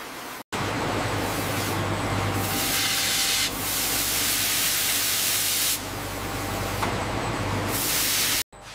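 Gold bars at a refining plant are blasted by a steam cleaner, a loud close hiss that surges and eases in long bursts, with short cuts of silence at either end.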